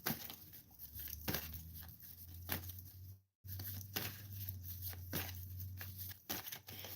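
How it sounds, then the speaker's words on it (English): Tarot cards being shuffled by hand, soft riffling and papery crinkle bursts in short repeated passes, quiet and close, with one brief gap of silence midway. "we're going to go ahead and shuffle the cards here"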